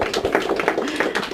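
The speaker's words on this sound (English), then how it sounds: "Give her a big round of applause" An audience claps for a woman, a short burst of quick, overlapping hand claps up close.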